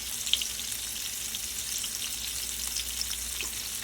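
Garlic butter pork chops sizzle and fry steadily in a hot pan, a dense, even crackle with scattered small pops, close and continuous throughout with no talking.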